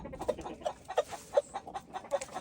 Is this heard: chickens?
yes